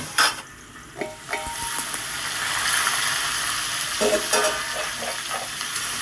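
Papaya lightly frying in a pan of hot oil: a continuous close sizzle with rhythmic stirring scrapes and utensil knocks, louder in bursts as the pieces are turned, without speech.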